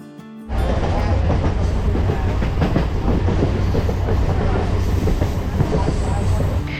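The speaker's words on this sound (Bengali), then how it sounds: "দীঘা থেকে হাওড়ার সকালের ট্রেন তাম্রলিপ্ত এক্সপ্রেস" The Tamralipta Express departs Digha station with a loud, continuous rumble and clatter of wheels on rails, heard from close by after a brief quieter moment at the start.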